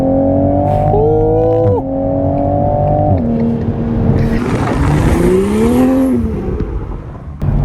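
A 2021 Toyota Supra A90 engine revs and accelerates loudly, pitch climbing then dropping between gear changes, with a burst of tire noise midway.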